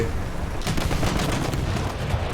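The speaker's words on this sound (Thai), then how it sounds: "แตกสองปืนกลซัด" Machine gun fire in War Thunder breaks out after a brief pause, a loud, rapid, sustained rattle of close shots that carries on to the end.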